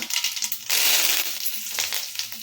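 Mustard seeds and curry leaves sizzle and crackle in hot oil as a tempering for a brinjal curry. There is a dense, bright hiss that surges loudly partway through, with sharp popping bursts scattered through it.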